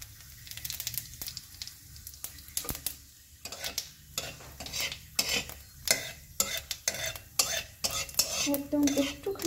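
Cumin seeds and ginger tempering in a little oil for vegetable khichuri, soft sizzling under repeated scrapes and clinks of a stirring spoon against the pan, close and fairly quiet.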